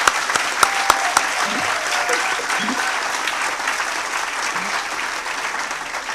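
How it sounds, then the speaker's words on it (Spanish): Audience applause at a humanist forum lecture, steady clapping from a crowd that fills the whole stretch, with a few louder sharp claps near the start and faint voices underneath. "un aplauso"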